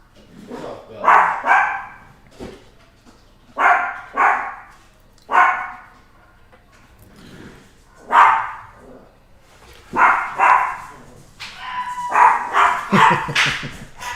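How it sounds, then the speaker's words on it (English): Indoor pet dogs bark in separate loud bursts, a few seconds apart, close by, and end in a quick flurry of overlapping barks and yips. "Our dogs are like heralding the movements of people, so they like when you start moving around, it's like they have to bark and announce that everybody's coming here"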